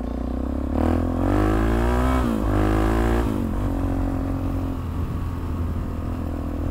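Motorcycle engine with its fairings removed, heard while riding: close, loud engine drone with rising revs, then a drop to a rougher, steady running note.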